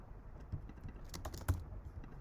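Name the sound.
pressing arrow keys on a Mac computer keyboard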